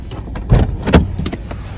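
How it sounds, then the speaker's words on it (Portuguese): Cars rush past on a busy street in short whooshing surges, one after another, close by and fairly loud. "porque tá passando bastante carro"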